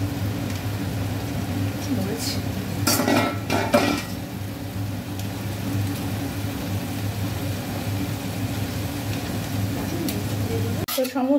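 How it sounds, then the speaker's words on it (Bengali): Vegetables with salt are stirred in a cooking pot after five-spice and bay leaf tempering, scraping and clinking metal sounds in short bursts over a steady background hum, with a clatter near the end. "একটু নাড়িয়ে চাড়িয়ে"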